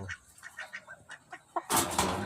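Several chickens and a duck cluck and call in short bursts, then a louder flurry of flapping or squawking breaks out nearby.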